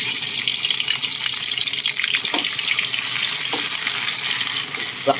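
Steady loud hiss and sizzle of large field frogs stir-fried in a pan with dried chili, turmeric, lemongrass, garlic, shallots and holy basil, a continuous close crackle with a few scraping stirs and no talking.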